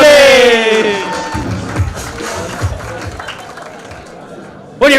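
Audience applause and cheering for a comedian at a live stand-up gong show, a dense clatter of clapping under crowd chatter that follows a brief spoken line and fades toward the end.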